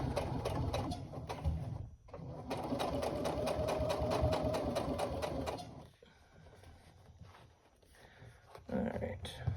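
A sewing machine top stitching across a tote bag runs in rapid mechanical bursts, a short stop, then a longer steady run before slowing into quieter handling noises, with someone talking over parts of it.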